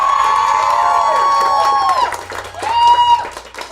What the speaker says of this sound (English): everybody, give a warm applause for Mal Hall being here.